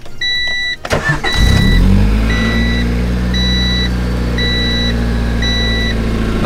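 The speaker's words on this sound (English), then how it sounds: "back from Lou's, exhaust is all set. Show you guys how it sounds" A car engine cranks and catches, then settles into a steady low exhaust rumble at idle from a freshly repaired, leak-free exhaust while a dashboard chime beeps repeatedly in a regular rhythm.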